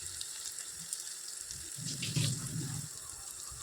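Water poured into gram flour while mixing a batter for junka, a soft trickling splash growing fuller midway, close and fairly quiet with no talk.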